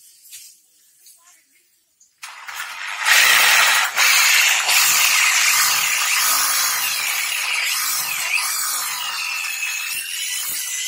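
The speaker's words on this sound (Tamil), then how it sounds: "சரி வாங்க, நம்ம ட்ரில் பண்ணலாம்." An electric drill bores into a wall to hang a photo frame, starting after a quiet moment with brief speech, then a loud, steady grinding whir that runs to the end.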